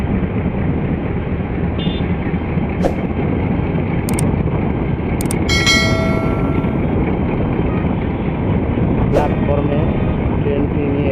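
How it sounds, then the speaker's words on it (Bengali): Dewanganj Express passenger train moving backward into Kamalapur railway station platform, a loud continuous low rumble and roar with a few brief metallic squeals, close and steady throughout. "যাত্রী নেওয়ার জন্য ট্রেনটি পিস দিক দিয়ে আগে বাড়তেছে"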